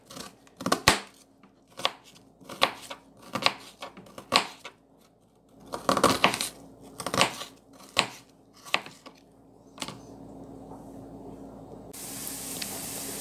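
Onion and garlic being chopped with a knife on a board, a series of sharp, close cuts in irregular bursts, followed by a steady hiss near the end.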